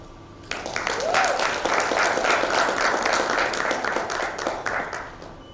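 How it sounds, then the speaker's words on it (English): Applause from an audience at a youth report launch event, dense clapping starting abruptly after a brief pause and sustained at steady volume, with some voices mixed in. "Another round of applause."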